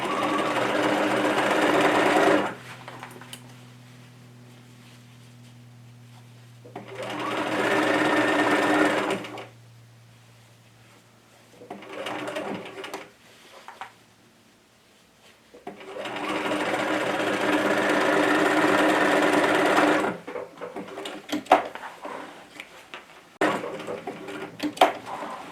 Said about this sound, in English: I'm going to back up, stitch across, and back up again at the other end.